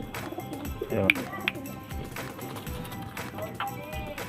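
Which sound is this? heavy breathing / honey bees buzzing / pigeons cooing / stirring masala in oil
pigeons cooing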